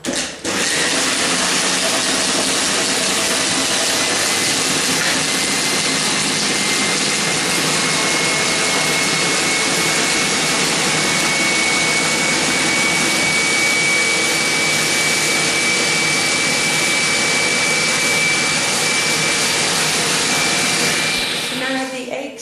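Electric mixer whisking eggs with sugar for a Greek New Year Vasilopita cake, a loud, steady, continuous whirring drone that runs without a break for over twenty seconds.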